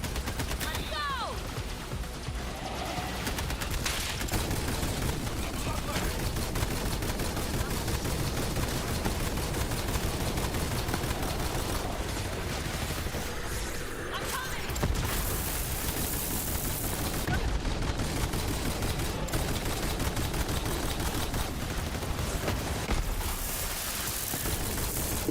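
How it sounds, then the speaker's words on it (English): Sustained gunfire from the Borderlands 3 shooter, rapid weapon bursts and crackling shots filling the scene almost nonstop, with players talking over the din. "she is shooting her gun from like a mile away"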